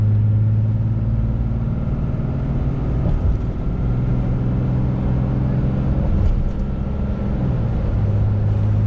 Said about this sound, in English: giving it a fair amount of gas, probably like 3/4 throttle maybe